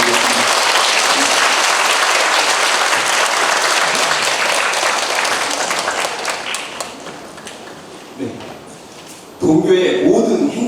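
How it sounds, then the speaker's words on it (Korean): Loud, dense applause from a school parents' meeting audience fills most of the stretch, thinning out toward the end before a brief burst of speech over the room. "큰 박수 한번 부탁드리겠습니다."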